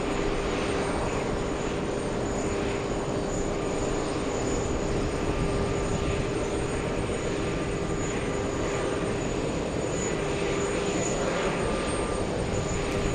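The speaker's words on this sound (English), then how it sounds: "Asiana Airlines taxiing to the 22s" An Asiana Airlines airliner taxis at an airport, its engines giving a steady, dense whine and hum with a sustained tone, constant and fairly close throughout.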